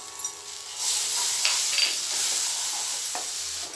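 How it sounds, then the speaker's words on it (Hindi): Masala for egg curry frying in oil on a low-medium flame while being stirred in a pan, a steady close sizzle with scraping spoon strokes throughout, no talk. "तब तक मसाला हमारा रेडी नहीं हुआ है, तो उसको अच्छी तरह से हम फ्राई करेंगे"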